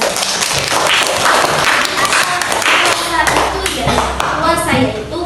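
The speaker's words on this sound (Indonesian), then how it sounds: "tepuk tangan kita" A classroom group claps together in quick, uneven bursts after a religious lesson on fasting, with children's voices and a teacher talking over the clapping.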